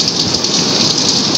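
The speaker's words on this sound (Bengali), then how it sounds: "প্রচুর আকারে বৃষ্টি হচ্ছে।" Heavy rain falls at night during a windy storm, giving a dense, steady hiss that stays loud and close for the whole brief stretch, with no voices.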